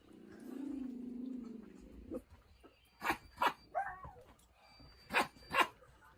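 A man imitates a dog, giving four sharp, loud bark-like yelps in two quick pairs after a low droning voice and a few softer noises.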